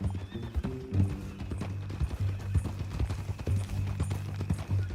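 Horse hooves clip-clop at a steady walking pace in Red Dead Redemption 2, close by, with a low hum and faint ambient noise in the background.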